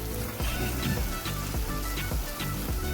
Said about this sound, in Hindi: अब इसमें शिमला मिर्च और प्याज डालेंगे